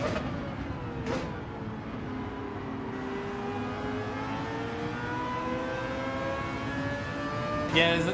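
Dodge Viper racing engine in Gran Turismo 7, a steady sustained drone with rising and falling pitch as it powers down a straight, continuous and fairly loud, with a couple of brief sharp bursts.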